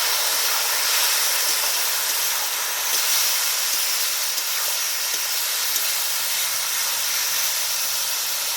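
Boiled jujubes dropped into plenty of hot oil with spices for a sweet-sour pickle, giving a steady, even sizzling hiss that holds at a constant level throughout, with no talking.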